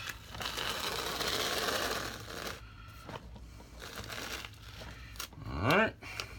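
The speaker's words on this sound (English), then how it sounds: "come on off here, tape. Pulling that off." Masking tape peeled off a canvas after acrylic pouring: a long ripping, crinkling stretch at first, then a few short tears and rustles, with a voice speaking in between.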